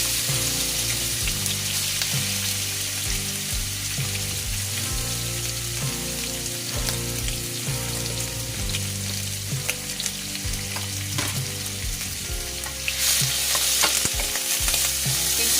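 Pork fat frying in a small amount of oil for adobong sitaw, a steady, loud close sizzle with stirring scrapes throughout and no talk.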